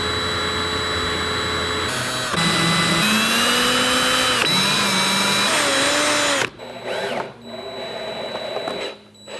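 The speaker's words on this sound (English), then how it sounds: "we're gonna put a drill bit in it first just because I do not wanna crack the wood" A power drill bores holes into wood for a European skull trophy mount, its motor whining steadily at shifting pitches in several long runs, close and loud, before slowing and stopping.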